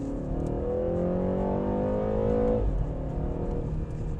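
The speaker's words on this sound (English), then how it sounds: "So switching to sport mode, paddle shifters, downshifts are nice and quick" A 2019 luxury sedan in sport mode accelerates hard, its engine note climbing steadily before a quick paddle-shift downshift snaps the pitch, then it pulls on strongly, close and loud with no talk.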